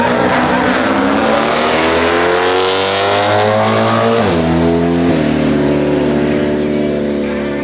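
A Ford Ranger Raptor on 35-inch tyres launching hard from a standstill, its engine roaring loud and close as revs climb through gear changes while the tyres spin with little traction.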